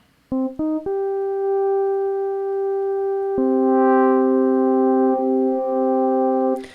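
A synthesizer plays pure, steady sine-wave tones: two short blips, then a sustained note that shifts pitch partway and holds for several seconds, clean and alone.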